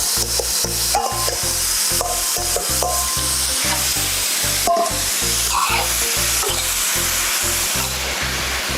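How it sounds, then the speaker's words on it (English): Minced beef sizzles loudly in a hot pan, close up and continuous, with a regular scraping and stirring rhythm running through the frying and no talking. "Okay, so now I am going to add the minced beef."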